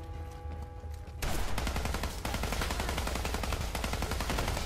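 Heavy machine gun fire in Fallout 4: Nuka World erupts after a quieter opening, a dense, continuous rapid burst of shots that stays loud and steady to the end.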